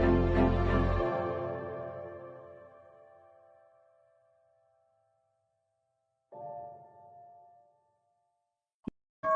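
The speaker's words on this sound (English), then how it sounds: "That's the stock market right there. That's the stock market bell." A stock market bell rings out with a loud resonant strike that decays slowly over several seconds, followed later by a fainter second ring and a brief sharp click.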